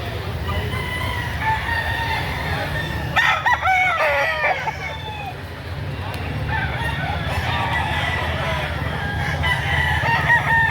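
Roosters crow and chickens cluck at a Saturday poultry market in Lipa, Batangas, several crows rising over steady crowd murmur and background bustle.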